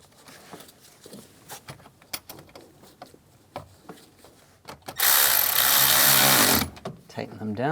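A power tool drives screws while a cover is secured during ignition switch replacement on a 2005-2007 Ford Five Hundred, with knocks and clicks first and then one loud steady whir of about a second and a half.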